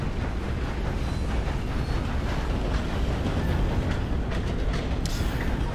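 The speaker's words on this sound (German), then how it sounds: "ich will das hier mal anschauen, wie die Eisenbahn hier diese Brücke überquert." A 19th-century steam train crossing a bridge in Red Dead Redemption 2, a loud continuous rumble and clatter of wheels with a few faint higher squeals, no talk.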